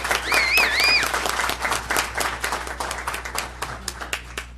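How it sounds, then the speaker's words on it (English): An audience at a city council meeting applauds with dense, continuous clapping for several seconds. A brief whistle sounds near the start, and the clapping thins slightly toward the end. "So I think another round of applause."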